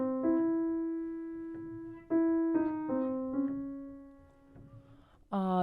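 Solo piano plays a sparse transition motif from Scriabin's Sonata No. 6, Op. 62, with ringing single notes and chords that decay into near silence between phrases, quiet and resonant.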